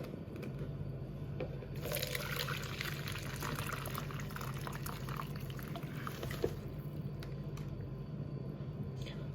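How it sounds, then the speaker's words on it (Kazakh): Hot oat decoction poured from a pot into a container, a steady liquid stream running for several seconds over a background hum, with brief speech. "Енді қазір мен дайын болған отварды мұнда құйып алам."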